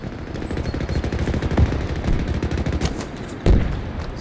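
Rapid continuous energy weapon fire from a beam cannon in the Halo video game, a dense crackling stream with a couple of heavier bursts, no talk.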